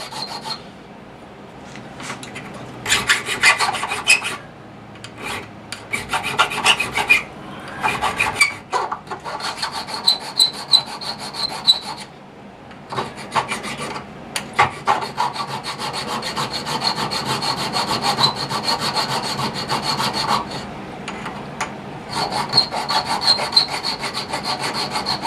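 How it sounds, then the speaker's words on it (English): Hand filing across the face of a metal engraver hand-piece barrel: close, dry rasping strokes in uneven bursts, some quick and choppy, then a longer stretch of steady back-and-forth scraping, with brief pauses between. "I can bump right up next to it as I'm filing on the face here"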